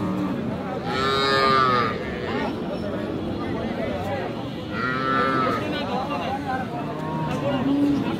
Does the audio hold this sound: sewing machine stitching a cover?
no